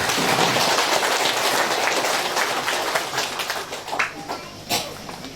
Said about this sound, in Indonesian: Mari kita tepuk tangan untuk Romo Robi